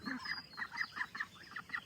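A flock of Peking Star ducks on a farm honking and quacking in rapid, repeated calls, fairly faint and slightly distant, with no talking.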